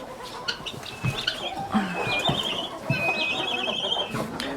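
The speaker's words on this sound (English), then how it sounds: "we got guineas, we have hens, we've got all this stuff" Guinea fowl and hens call inside a lit chicken house, a busy overlapping mix of shrill squeals, clucks and repeated high chattering cries, fairly close, with a person speaking briefly among them.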